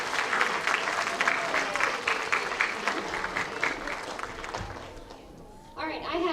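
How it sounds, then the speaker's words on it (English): Audience at a school awards assembly for 3rd through 8th graders claps for students, a steady wash of applause filling the room that thins toward the end, with a few voices rising briefly near the close. "So I would like to give them a round of applause because they worked really hard this year."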